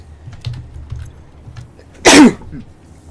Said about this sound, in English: I had a sneeze.